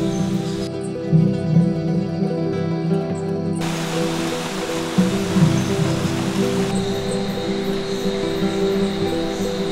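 River flowing through Colombian rainforest at night, a steady broadband rush of moving water with a constant background hum, continuous throughout and free of speech.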